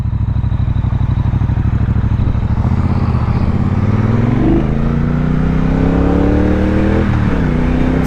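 Close, loud engine of a 2017 Triumph Bobber 1200cc motorcycle while riding, a throbbing low idle rising as it accelerates through gear changes, pitch climbing and dropping in steady sweeps.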